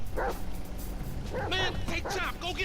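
A dog barks and yips in Grand Theft Auto V. A few short, sharp barks rise over steady game background noise, fairly close and moderately loud.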